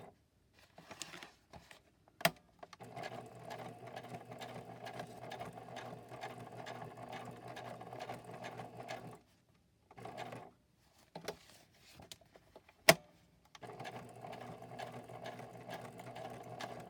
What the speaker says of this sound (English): I just stitched all the way around the little rectangle